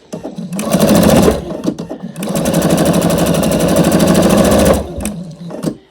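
A sewing machine chain-pieces scrappy quilt binding strips in two loud, fast bursts of rapid needle chatter with a short pause between them. It runs close up and steady, with small handling clicks before and after and no talking.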